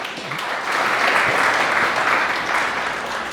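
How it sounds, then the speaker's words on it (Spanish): An audience at a talk on the meaning of the cross gives a steady round of applause, a dense, fairly loud wash of clapping lasting a few seconds with no talking over it. "Un aplauso para Rodri."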